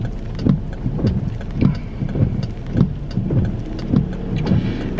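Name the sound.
sudden rain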